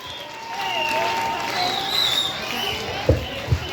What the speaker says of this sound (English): Everyone welcome her with a huge round of applause.